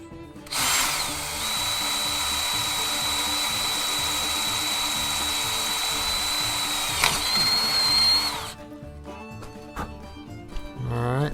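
A power drill slowly bores a 1/4 inch hole in a metal bracket for a shop fan. There is a close, loud, steady whine for about eight seconds, then it stops, followed by light clattering and handling noises.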